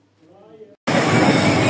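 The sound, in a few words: train approaching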